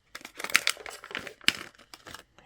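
Thin plastic bag around a DJI O4 Air Unit (standard, non-Pro) crinkling as it is opened, a run of close, dry crackles with a few sharper rustling bursts, no voices.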